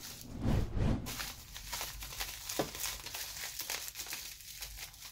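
A plastic bag holding a Redcat Gen 7 transmission part is cut open, giving close, fairly quiet crinkling and rustling that swells in the first second, then continues as uneven, softer crackles.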